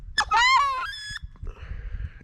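A wood duck call blown on a DC call gives a quick rising squeal and then several short, wavering whistled notes that fall away. Softer breathy tones follow, and the whole sequence is close and clear.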